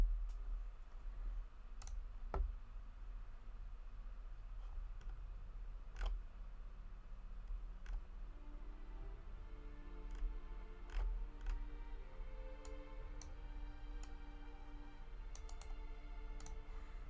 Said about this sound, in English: sorry for the mouse clicks.